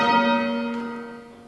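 A hand-rung church bell in change ringing, a single sustained bell tone with rich ringing overtones that slowly decays, close and loud with no talk.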